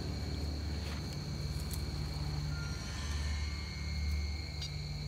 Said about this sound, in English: I just heard this beep.